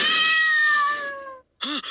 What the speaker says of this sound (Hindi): जैसे ही उस छोटी बिल्ली ने म्याऊ किया